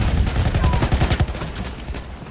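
Rapid gunfire in Battlefield 1, a loud burst of repeated shots fired in quick succession that thins out and fades toward the end.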